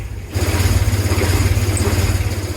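A boat's engine idles while warming up in the Bahamas. It gives a steady, deep, close throbbing rumble with an even pulsing rhythm that starts abruptly and continues without talk.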